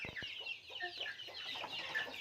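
A flock of farm chickens cluck and squawk eagerly as a feed bin is opened, a busy overlapping chatter of close and farther birds throughout with brief knocks at the start.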